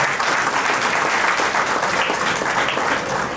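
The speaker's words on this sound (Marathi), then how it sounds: "टाळ्या वाजवून अभिनंदन करायचं आहे." An audience at a prize distribution ceremony claps in a dense, continuous burst of applause, loud and close, for a few seconds.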